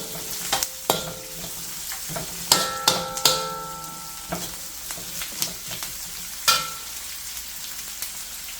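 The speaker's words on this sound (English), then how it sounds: "The onion has to be nicely sauteed, nicely cooked." Onion, ginger and garlic sauté for spicy kadhai chicken, a soft sizzle punctuated by sharp metallic spatula clanks against the kadhai, some ringing briefly, at an irregular pace.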